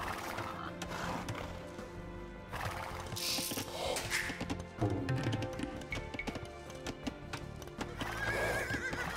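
Horse hooves clip-clopping and repeated neighs and whinnies from the Age of Empires II strategy game, mixed with clicky mechanical interface and building sounds, fairly faint and busy.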